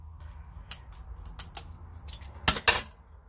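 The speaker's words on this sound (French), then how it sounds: "Donc, je prends les ciseaux." Scissors snip and clink several times at a mixed media craft table, a few sharp metallic clicks with a busier double cut near the end, no talking.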